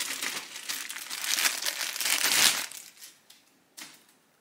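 Plastic packaging crinkles and crumples loudly as a monitor's power cable is unwrapped, a dense run of rustling that swells, then fades into a few separate crackles.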